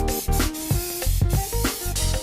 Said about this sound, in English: I'm gonna stand on this cooler just so I can spray straight down and get an even coat